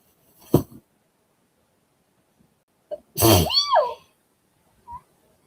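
A single sharp sneeze bursts out with a throaty, rising tail, bracketed by a brief click before it and a small noise after, in an otherwise quiet room.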